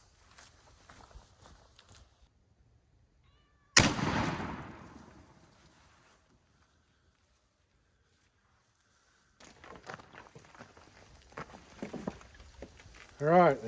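A 12 gauge muzzleloader with a rifled barrel fires shot at a milk jug from behind a side-by-side, one loud close blast followed by a fading tail, with quiet movement before and rustling and a short voice after.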